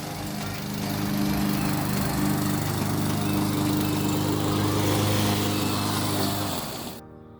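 A newly assembled lawn mower's small engine runs steadily at a close distance, a loud droning buzz that rises in the first second, holds evenly, then cuts off abruptly near the end.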